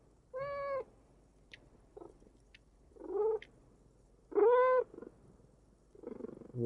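A cat vocalizing up close in a quiet room, several separate drawn-out meows and chirrupy trills with pauses between them rather than a continuous purr.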